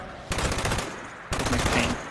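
Two short bursts of rapid rifle fire sound in a video game, each a quick stuttering string of shots about a second apart, fairly quiet in the mix.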